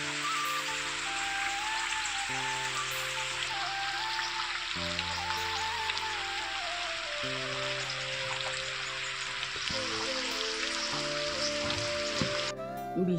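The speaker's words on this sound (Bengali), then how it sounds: "এখনও দেখো বৃষ্টি হচ্ছে।" Steady rain falls outside a window in a flooded village after a night-long downpour, a dense, even hiss of drops that holds throughout under a soft continuous musical tone.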